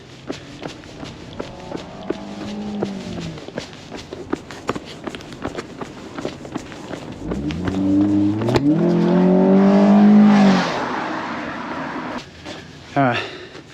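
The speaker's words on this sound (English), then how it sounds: "the car that you may have heard zoom past" A car approaches and zooms past on a quiet road in New Zealand, its engine swelling loud and close and then fading, after earlier running footsteps and breathing.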